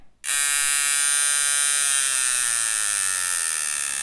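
A Pope Irons T3X tattoo machine switches on abruptly and runs with a high, steady buzzing whine, loud and close, slowing slightly in pitch near the end.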